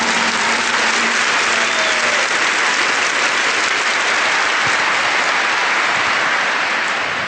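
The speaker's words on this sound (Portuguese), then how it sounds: "Give the Lord a big clap for that." A church congregation bursts into loud, sustained applause, dense clapping that fills the room evenly for several seconds without letting up.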